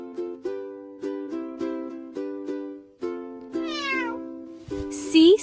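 A cat meows repeatedly in quick succession, short tonal calls in a steady rhythm, close and clear. It ends with a longer, rising yowl and a brief rustle, with no talk over it.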